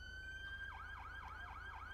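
Police car siren in GTA 5 with the LSPDFR mod, a steady wailing tone that sweeps down and up in quick repeating cycles over a low engine rumble, loud and close, with no talking.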